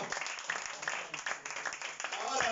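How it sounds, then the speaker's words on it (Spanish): A congregation in a church claps in a moderately loud, uneven patter. Some individual claps stand out within the reverberant room sound, and a few louder hits come near the end. "Dale una aplauso."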